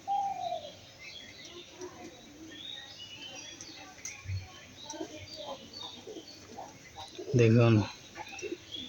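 A pair of white pigeons coos softly nearby, with a louder, throaty coo near the end, while a person speaks quietly in the background.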